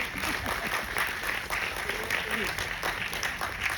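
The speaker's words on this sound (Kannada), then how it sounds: "ನಮಗೋಸ್ಕರ ಒಂದ್ಸರಿ ಜೋರಾದ ಚಪ್ಪಾಳೆ ಬರಬೇಕು." An audience at a Kannada community event claps in a steady, dense wash of applause, with a voice speaking over the clapping throughout.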